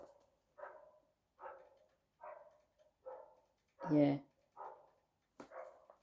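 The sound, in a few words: dog barking outside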